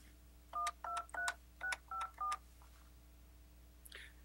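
Keypad tones from an Alcatel-Lucent 8068s desk phone as a password is entered: six short, evenly spaced dual-tone beeps in quick succession, clear and close, followed by a faint brief blip.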